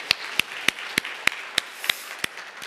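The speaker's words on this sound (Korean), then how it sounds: "우리 공동체 팀들에게 다시 한번 우리 박수로 한번 수고에 감사를 드리겠습니다" A church congregation claps for the community team in slow, even unison beats, nine sharp claps about a third of a second apart, steady and moderately loud with no talking.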